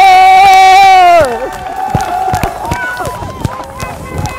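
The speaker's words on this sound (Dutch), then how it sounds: "Sorry mensen, ik moet even juichen." Loud, excited cheering and whooping from a supporter, a sustained shout that breaks into jumbled cries and chatter amid a celebrating crowd after a goal at a football match.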